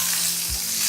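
Pointed gourd frying in a pan with mustard and cumin seeds, a loud steady sizzle with one brief thud of a spoon stirring through it.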